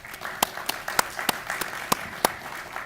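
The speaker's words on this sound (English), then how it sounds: "Just give her a little applause." Scattered audience applause at a senator-sponsored event on U.S.-Russia relations: a handful of distinct, fairly sharp claps spread over a few seconds against a low room murmur, thin rather than a full ovation.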